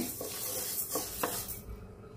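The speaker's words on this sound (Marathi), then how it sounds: "आता ही मी मूग डाळ भाजून घेते" Moong dal is dry-roasted in a pan and stirred, producing a dry rustling hiss with a few soft scraping strokes of the spatula before it quiets near the end.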